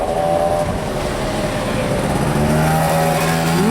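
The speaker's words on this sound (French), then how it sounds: "Bugatti Veyron." A Bugatti Veyron supercar drives through the streets of Cannes, heard as a loud, constant engine and road roar with a low tone that rises slightly toward the end.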